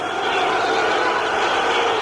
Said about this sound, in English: And the boos from the crowd tell it all